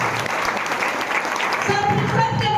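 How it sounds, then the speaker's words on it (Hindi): An audience at a product training event bursts into brief, dense clapping, loud and close, with a voice speaking over it toward the end. "जबरदस्त ताली बजाओ।"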